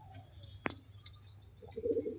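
Old-generation Giribaz pigeons coo in a loft, a soft low murmuring that swells near the end, with one sharp click early on and faint chirps above.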